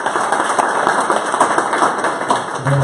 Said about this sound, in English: asking for another round of applause for our host,